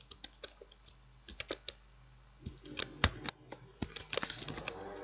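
Typing on a computer keyboard in quick irregular bursts of close, crisp key clicks with short pauses, recorded while working in PowerPoint, with no talk over it.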